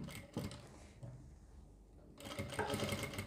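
A sewing machine stitches a collar neckline in two close, loud bursts of rapid mechanical whirring, separated by a quieter pause.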